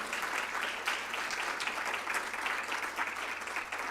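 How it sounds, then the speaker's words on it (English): An audience at a youth mental health town hall claps for Dr. Sood, a sustained even round of applause throughout with no one speaking over it. "give Dr. Sood a big round of applause as well for being here."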